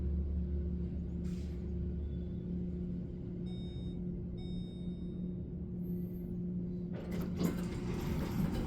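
A modernized Westinghouse elevator in a hotel approaches with a low mechanical rumble and hum, faint creaks and clicks overhead, then a rising rattle and clunk as the car arrives near the end, with no voices.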